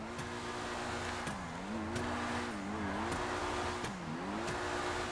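A Pegassi Infernus Classic in GTA 5 slides under handbrake, its engine droning steadily while the pitch dips and rises with brief sharp ticks at intervals, no talk.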